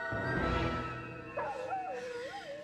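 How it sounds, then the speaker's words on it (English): A dog whimpers in a high, wavering whine that rises and falls in pitch, faint and somewhat distant, over a low background murmur. "You see the dog? No, but I hear it whimpering."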